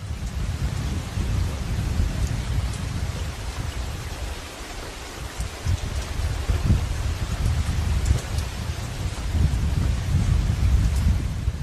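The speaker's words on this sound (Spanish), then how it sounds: "No ha parado de llover un solo minuto desde que dejamos al equipo grabando en el Hyde" Heavy rain falling without pause in the Sierra de la Culebra, Spain, a dense steady hiss with a deep rumbling low end throughout, no voices.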